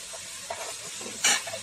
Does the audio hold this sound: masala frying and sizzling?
yes